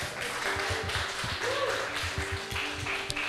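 Clapping for Saint Joseph at a Catholic gathering, a scattered round of handclaps from a small group, with irregular overlapping claps under a faint room murmur for about three seconds.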